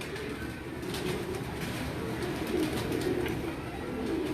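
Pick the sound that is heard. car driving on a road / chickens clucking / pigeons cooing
pigeons cooing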